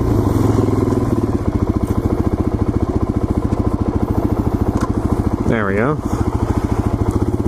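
Motorcycle engine running steadily and loud on a rider-training course, with a brief rising rev near the end and a person talking over it.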